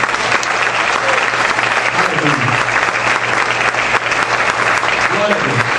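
A church congregation claps loudly and continuously during an evening service, a dense sustained applause with a few voices and cheers mixed in.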